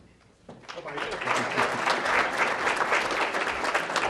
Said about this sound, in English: everybody applauded but my staff over here